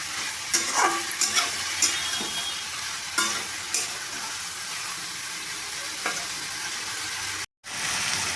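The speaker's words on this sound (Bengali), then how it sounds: "আমি সমস্ত সবজিগুলো দিয়ে আবার সবজিগুলো ভালো করে ভেজে নেব।" Ridge gourd, prawns and mixed vegetables fry in a pan with a steady, bright sizzle, broken by several sharp clicks and scrapes of stirring; no one speaks.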